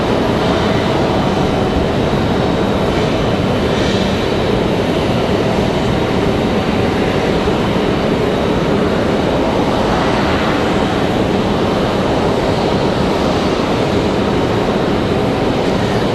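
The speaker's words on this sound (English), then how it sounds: "Do have that A220 leaving the penalty box, one leaving the airport, one leaving the box, as you guys can hear." An Airbus A220 airliner departs Raleigh-Durham airport with a loud, steady engine roar that fills the whole stretch without a break.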